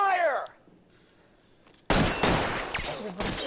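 Gunfire in the L.A. Noire video game: after a brief shouted voice and a quiet pause, a dense, loud burst of rapid shots and clatter fills the second half.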